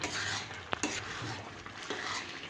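Moong dal masala with meat and cumin powder being sautéed and stirred in a pan, a steady soft sizzle broken by a few sharp spoon scrapes and clinks against the pot, no voices.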